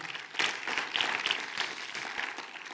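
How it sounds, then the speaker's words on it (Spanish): Church congregation applauding the Holy Spirit during a Spanish-language service, brisk rapid clapping with a few whoops rising and falling, fairly close and without speech. "darle un aplauso con todo su corazón al Espíritu Santo"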